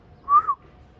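A person whistles one short, clear note that rises and then dips, in a quiet outdoor setting. The whistle stands alone and is fairly close.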